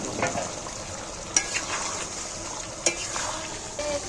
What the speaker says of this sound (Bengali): আলুগুলো মাংসের সাথে নাড়াচাড়া করে কষিয়ে নিই